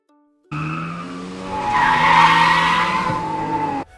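A car's tires skid and squeal loudly in one sustained screech as the vehicle is driven recklessly, rising in pitch and intensity midway before cutting off abruptly after about three seconds.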